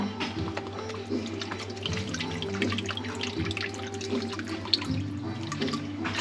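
Tap water runs into a container while four cups are measured out for refrigerator pickles, a steady soft splashing and trickle with a low hum underneath, no talk.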